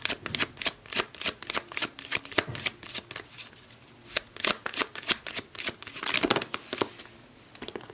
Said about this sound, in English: I do shuffle the decks